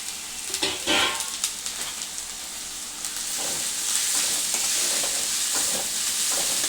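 Onions and four or five cut green chillies frying in a pan for a Telangana-style egg curry. A few stirring scrapes come first, then a steady, fairly loud sizzle builds and holds, with no talking.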